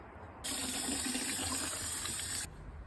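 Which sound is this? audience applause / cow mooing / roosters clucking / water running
water running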